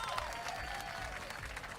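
A crowd at a Melbourne fighting-game tournament applauds in a faint, steady wash of clapping heard from a distance, with a little cheering mixed in.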